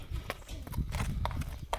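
A horse's hooves clip-clop on the ground at a Kyrgyz horse sale, a steady run of distinct hoof strikes close by over faint background noise.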